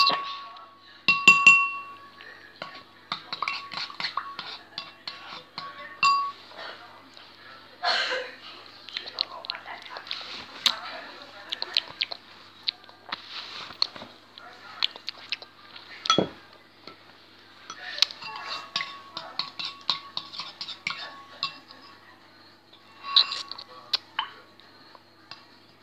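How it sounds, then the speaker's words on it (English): A utensil stirs ingredients together in a bowl with faint clinks and scraping taps, irregular and quiet, while soft whispered talk runs through much of it. "Guys, I'm just gonna mix it all in."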